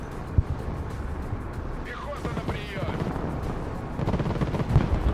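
Gunfire in the strategy game Broken Arrow rattles faintly under a low battlefield rumble, with scattered distant pops and a thicker burst of shots near the end; voices are present.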